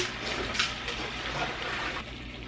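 Running tap water splashing over hands during a quick wash in a home kitchen while cooking summer squash, a steady close rush of water throughout.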